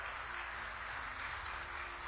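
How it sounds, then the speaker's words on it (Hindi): A large crowd at an outdoor election rally in Khunti, Jharkhand, applauds in a steady, even wash of clapping that sounds somewhat distant and holds at a constant level. "जोर से ताली बजाओ अर्जुन मुंडा जी के लिए भाई"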